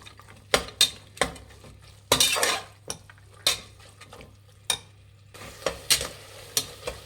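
Fresh avarekalu (lima beans) frying in oil in a pan and being stirred with a metal spatula, irregular sharp scrapes and clinks over a quiet, low sizzle, with no voices.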